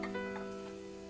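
Garlic and onions sautéing in a pan give a steady, close sizzle with a constant hum running underneath. No one speaks.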